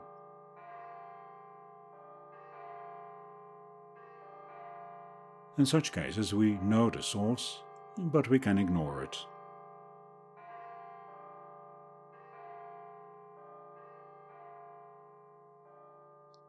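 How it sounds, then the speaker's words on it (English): Church bells ring in a slow, resonant pattern with long shimmering tones, briefly interrupted by someone speaking before the bells continue. "follow the shimmering reverberation of church bells on a quiet Sunday morning"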